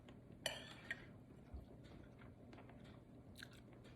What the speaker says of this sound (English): Just watch me chew